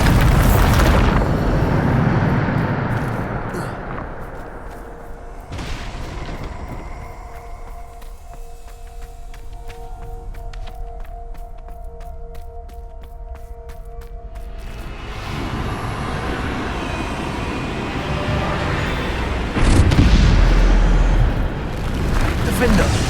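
Bombarda spell blasts in the Hogwarts Legacy video game: loud, broad booming explosions at the start and again near the end, with a quieter rumbling stretch between, heavy low-end impacts and swelling roars.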